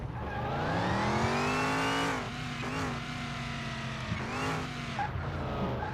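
A custom hot rod in a video game lapping a test track, its engine roaring through gear changes with tire squeals and skids, loud and continuous, no voices.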